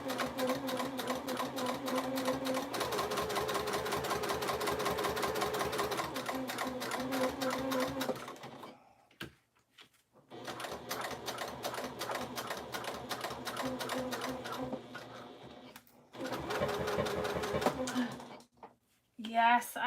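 A sewing machine stitches a quilted zipper pouch or bag in rapid mechanical bursts, running steadily, then pausing and restarting several times, with a nearby voice talking at points between runs.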